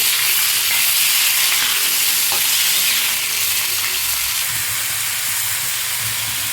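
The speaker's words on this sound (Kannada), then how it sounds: "ನಾಲ್ಕು ಮೀಡಿಯಮ್ ಸೈಜಲ್ಲಿರೋ ಟೊಮೆಟೊ ಹಾಕ್ಕೊತಿದ್ದೀನಿ" Tomatoes added to hot oil for chicken biryani gravy give off a loud, steady hissing sizzle that eases slightly after a few seconds, heard up close with no voices.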